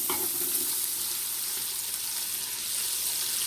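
A whole onion fries in hot bacon fat for potato soup, making a loud, steady, dense sizzle that holds evenly from start to finish, with a brief clink at the very beginning.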